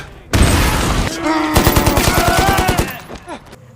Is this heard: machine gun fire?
yes